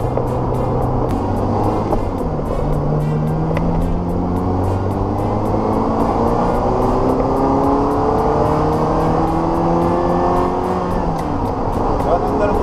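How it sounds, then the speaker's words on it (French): Ferrari 348 TS engine accelerating through several rising pulls, steady and loud throughout, with talk faintly underneath. "Ça va donner dans le moteur un petit peu quand il accélère."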